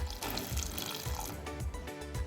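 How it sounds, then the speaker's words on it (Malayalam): Water pours steadily into a pot, a continuous close splashing and trickling with a faint rhythmic clatter underneath. "അതിനുശേഷം 1 ഗ്ലാസ് വെള്ളം കൂടി ഒഴിച്ചു കൊടുക്കാം."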